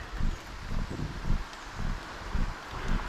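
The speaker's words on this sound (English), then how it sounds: "You can hear it's raining pretty good." Rain falls steadily during a walk along a residential street, a constant broad hiss with rhythmic footsteps thudding underneath.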